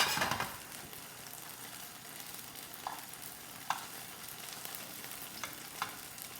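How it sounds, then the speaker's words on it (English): Homemade gnocchi browning in a pan sizzle softly and steadily at low volume, with a louder stir at the start and a handful of sharp utensil taps and scrapes spaced across the quiet frying. "we're going to add our gnocchi to our pan. I'm just going to saute those for a little bit."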